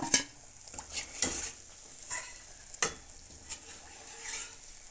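Steady bubbling and sizzling of oil in a pan as an old-style sweet made with jaggery, coconut and rice fries, with a few sharp clinks of a utensil against metal and no voices.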